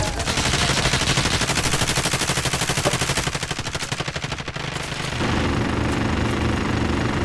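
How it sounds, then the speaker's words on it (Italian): Dense automatic gunfire from Call of Duty Warzone, loud sustained rattling bursts up close, shifting midway into a heavier, steadier mechanical roar with shots continuing underneath. "Ragazzi, sparano."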